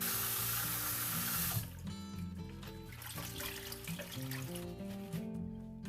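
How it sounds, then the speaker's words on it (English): Kitchen tap water runs loudly over fresh cabbage as it is rinsed for vegan kimchi, a close, steady splashing stream that softens and changes after a couple of seconds, with faint music underneath. "I'm gonna rinse it real quick"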